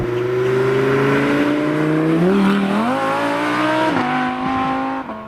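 A 2017 Audi R8 V10 Plus sports car engine roars loud and near, holding a steady high drone before the pitch dips and climbs through several gear-like shifts, then eases off at the end.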